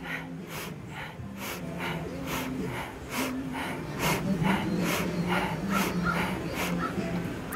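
Rhythmic deep breathing during a yoga shoulder-raise warm-up comes as close, audible inhales and exhales in a steady repeating pattern, over a low hum, with no talk.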